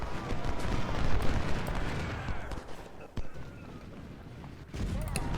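Musket volleys crackle between infantry lines in Ultimate General: Civil War, a dense rolling rattle of distant shots with sharper reports scattered throughout beneath someone talking.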